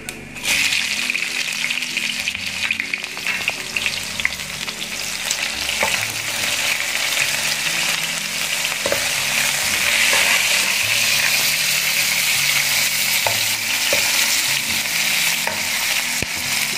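Chopped onion fries in hot oil with cumin for a mutton chop dish, a loud continuous sizzle close to the pan with recurring clicks and scrapes of stirring and no talking.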